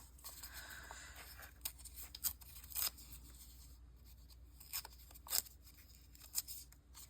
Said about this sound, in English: I'm going to rip these things into squares